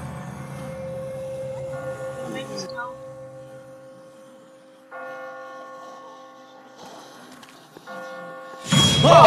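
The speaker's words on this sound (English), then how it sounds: "I just got spooked by those bells" Church bells toll in The Walking Dead video game, ringing out with a sustained humming tone and a pause partway through before a sudden loud burst at the end.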